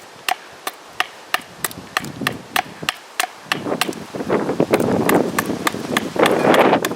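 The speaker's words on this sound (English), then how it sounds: "Ran out of tent stakes, so Justin's making some old-fashioned wood ones" Wood is chopped outdoors to make tent stakes, a string of sharp, evenly spaced knocks that becomes buried under rising gusts of wind roar in the second half.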